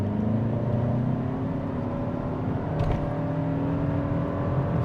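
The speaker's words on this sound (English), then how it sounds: "We could probably try one out off the line right over here. Off the line, on the gas." A 2026 Toyota Camry XLE Premium pulls hard from a standstill, its steady engine drone and rising road and tire noise filling the cabin without a break, with no voices heard.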